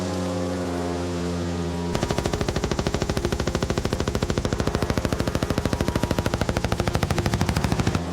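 Rapid, sustained machine gun fire from a WWI air battle, a dense mechanical rattle of evenly spaced shots that starts abruptly after a low droning hum and carries on loud and steady.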